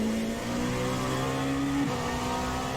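Dallara P217 LMP2 race car engine at full throttle in iRacing on the Daytona road course, a loud steady high-revving drone whose pitch climbs, dips briefly at a shift, then carries on without any talk.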